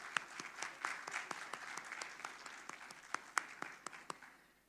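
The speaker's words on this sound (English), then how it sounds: "have a huge round of applause for the Honorable Minister" An audience at a maritime conference session in India claps for the minister, a steady patter of many hands with distinct sharper claps standing out, fairly distant and faint, tapering off at the end.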